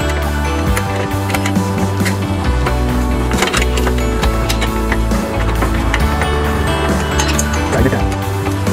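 Metal nut and screw being tightened on a Titan Santa Maria attachment for a Weber 22-inch grill: dense close clinking, ratcheting and scraping mechanical clatter, loud and continuous with no talking.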